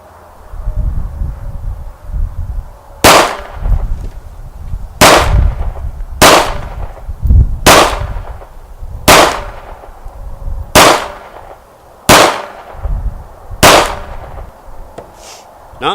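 An FN FNS pistol fires a string of nine or ten sharp, loud shots outdoors, spaced about a second or two apart, each with a ringing impact on steel plate targets and wind noise between.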